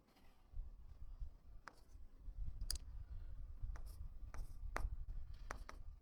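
Math fractions being written by hand on a sheet, producing faint, close scratches and light tapping clicks in short, irregular bursts over quiet background noise, with no voices.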